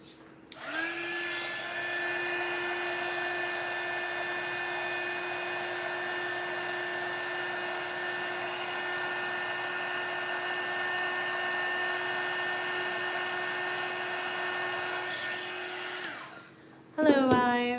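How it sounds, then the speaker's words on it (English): A hair dryer blows steadily on wet watercolor paint, a loud, even whir with a constant hum that runs unbroken for about fifteen seconds before switching off abruptly near the end. "I gotta dry this up so that my leaves don't bleed into my flowers."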